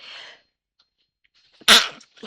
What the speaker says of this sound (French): Alors j'ai éternué.